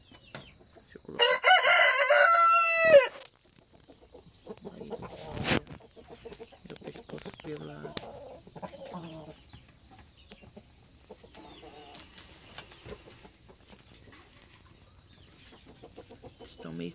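Roosters, including a Naked Neck, in a coop kept apart from the hens, one crowing loudly and close for a couple of seconds, followed by scattered softer clucks and low calls with quieter background rustling.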